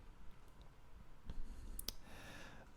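Computer mouse clicks on a drop-down menu in a Google Sheets planner: a couple of faint clicks early, then two sharp, close clicks near the middle over low background noise.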